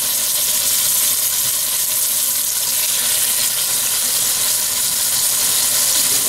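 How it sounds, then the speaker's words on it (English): Short ribs brown in hot oil over medium-high heat, giving a loud, continuous close-up sizzle and hiss that stays even throughout, with no voices. "I got some oil heating here. You know, you're on about, get on about medium high heat. Just going to brown these sides."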